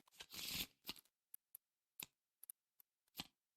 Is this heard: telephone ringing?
no